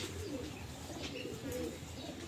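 Racing pigeons coo softly at a loft, low murmuring calls overlapping in a quiet, faint backdrop with light ambient noise.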